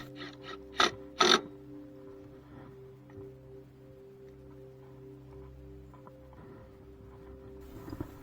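Bolts are tightened during a rear transmission replacement on a 22-inch Toro Recycler mower. A few short, close ratcheting bursts come early, then a faint steady hum with light scattered clicks.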